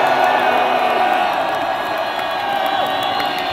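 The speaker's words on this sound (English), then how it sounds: "Give yourself a huge round of applause." A large crowd at a metal concert in an outdoor amphitheatre roars and cheers continuously, a dense wash of voices filling the space without pause.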